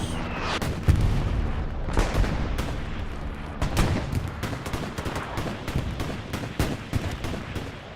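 Artillery and gunfire booms rumble through a large-scale Hell Let Loose battle on console, with repeated heavy blasts and crackling shots in a dense, continuous barrage and no speech.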